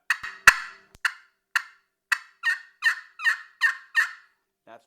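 Turkey call run through a cut, starting with several sharp, quick clucks that settle into a rhythmic series of loud raspy notes, close by with nothing else heard.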